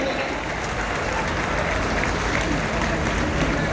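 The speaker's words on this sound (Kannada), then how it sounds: "ಜೋರು ಚಪ್ಪಾಳೆ ಕಟ್ಟೋದ್ರ ಮೂಲಕ ವೇದಿಕೆಗೆ ಬರಮಾಡಿಕೊಳ್ತಾ ಇದ್ದೇನೆ" A crowd applauds to welcome Chief Minister Siddaramaiah to the stage at a Lingayat seers' federation event, dense sustained clapping throughout, fairly loud and even.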